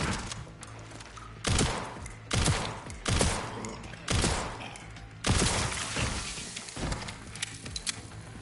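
Machine gun fire in the video game Resident Evil Requiem comes as repeated loud bursts, about six or seven separate volleys with brief gaps between them, close and punchy, with no talking.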